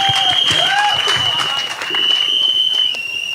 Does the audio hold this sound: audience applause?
yes